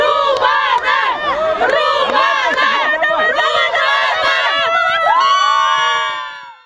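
A crowd of fans cheers and shouts loudly and continuously at a mine rescue team competition in Leninsk-Kuznetsky, then the noise fades out at the end.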